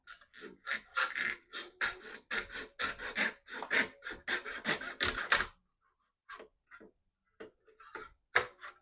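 A 90-degree cut is made straight down through a wooden stick held by a stop-block clamp: about ten quick, rhythmic rasping strokes, close and fairly loud, then a few scattered light taps.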